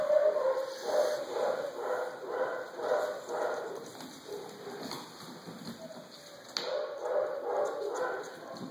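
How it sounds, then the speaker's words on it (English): Several puppies yip and whimper in a steady, rhythmic series of short high calls, fairly close, continuing with a brief sharp click partway through and no talk over them. "Puppy puppy puppies! Your puppies."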